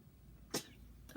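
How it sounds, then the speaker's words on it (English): A single sharp sneeze bursts out mid-clip, followed moments later by the start of a second one, each brief and loud against a quiet room. "I gotta sneeze"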